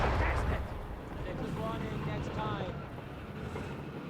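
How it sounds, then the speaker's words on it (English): Raketten-Panzerbüchse rocket launcher firing in the Company of Heroes 3 strategy game, a loud blast at the start followed by a rumbling battlefield din of explosions and gunfire that stays dense throughout. "Good shot there from the Raketten-Panzerbüchse"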